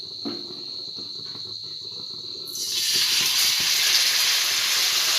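Cucumber, jaggery and coconut batter dropped into hot oil, with a faint steady hiss that swells halfway through into a loud, continuous sizzle as the frying takes hold.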